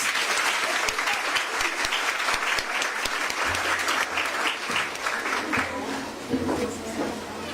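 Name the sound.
audience applause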